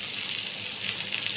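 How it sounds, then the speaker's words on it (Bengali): Boiled chickpeas fry in a pan with a little sugar, making a brief, close, crackling sizzle that stays fairly quiet and even, with no voices. "এটাকে ভালো করে কষাবো এখন, 2-3 মিনিট মতো কষাবো।"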